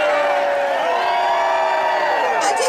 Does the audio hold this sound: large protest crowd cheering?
yes